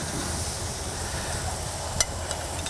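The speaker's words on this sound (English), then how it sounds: "hear the sizzle of the prosciutto and the vegetables on here" Prosciutto and vegetables sizzle steadily on a hot cooking surface as part of a charcuterie and appetizer spread, a continuous close hiss and crackle with a couple of brief sharper pops near the end.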